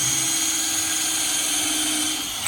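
Power drill whirring steadily as it drives screws into the top piece of an Adirondack chair kit, a continuous close, loud motor drone with no talk, easing off at the very end.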